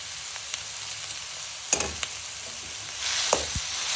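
Mashed potato filling being mixed in a pan for aloo paratha, a soft steady sizzle broken by a few sharp scrapes and knocks of the spoon, near and quiet, with no talk.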